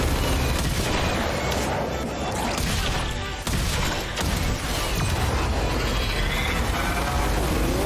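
Ship gunners blasting away in a space combat game, a dense, continuous barrage of loud booming and rattling fire with mechanical clatter, steady throughout with brief dips.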